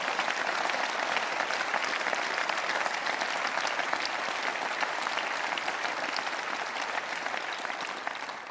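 A conference audience at a Liberal Democrats party gathering applauds, a dense, sustained roar of clapping that holds steady throughout and fades slightly at the end.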